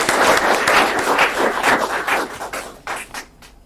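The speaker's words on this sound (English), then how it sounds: "A round of applause, very quickly, ladies and gentlemen." Audience at a World Environment Day celebration clapping briefly, a loud burst of applause that thins and fades toward the end.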